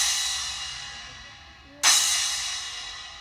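A struck cymbal left to ring freely, with a sharp loud attack after a fading tail, then a long bright shimmering sustain that decays slowly, played alone.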